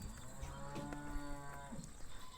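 A Murrah buffalo lets out a low, drawn-out moo, faint and somewhat distant, over quiet outdoor background noise.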